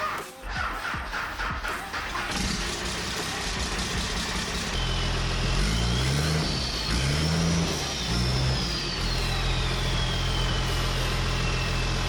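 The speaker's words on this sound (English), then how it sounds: "I have a 12-valve Cummins Explorer and it's running" A Ford Explorer swapped with a 12-valve Cummins diesel engine and sitting on 37-inch tires, running with a loud, steady low rumble, a couple of rising revs in the middle, and a faint bird calling above it.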